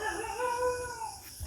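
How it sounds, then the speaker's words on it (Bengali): A house dog in rural Bangladesh howls on an autumn night, a drawn-out, wavering cry that rises and falls for over a second, fairly close and alone with no talking. "বাড়ির কুকুরটা ডাকছে।"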